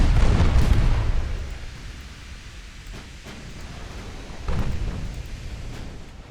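A torpedo hit explodes in the naval warfare game Ultimate Admiral Dreadnoughts as a loud, deep rumbling blast that fades away. A second, weaker rumble swells near the end, with no voices.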